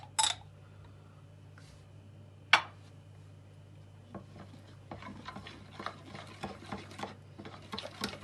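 Olive oil, lemon and pomegranate molasses stirred in a bowl, a few sharp clinks and then a run of soft, quick scraping taps, close and quiet, no voices.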